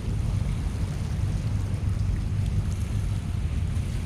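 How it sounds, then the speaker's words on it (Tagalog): Ship engines run at a quarry during a typhoon, heard as a steady low rumble beneath broad wind noise buffeting the microphone, continuous and unchanging with no voices. "mga makina ng barko dito"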